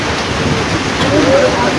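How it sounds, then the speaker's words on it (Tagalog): Steady rain hissing across a broad band during a ride to Buyayao Island in the Philippines, with faint voices talking in Tagalog underneath. "Sugod na kami sa ulan"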